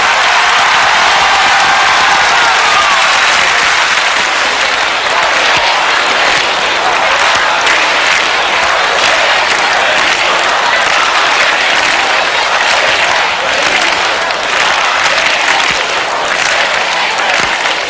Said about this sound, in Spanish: Yo no soy contrario a los aplausos, porque cuando aplauden, el Papa puede un poco reposar.